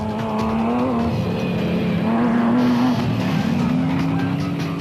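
A Nissan Navara Dakar rally race car drives with a steady, loud engine drone that rises slightly in pitch, a continuous close motor sound throughout with no talking.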